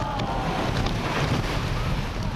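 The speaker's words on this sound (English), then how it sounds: "Waves splashing against lampposts." Storm waves from a typhoon splash against lampposts at midnight in Heng Fa Chuen, Hong Kong, a constant roaring rush of surf and strong wind buffeting the microphone, loud and unbroken.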